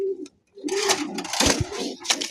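A large pigeon coos in low murmurs amid handling rustle and clatter, close and moderately loud, with brief pauses between sounds.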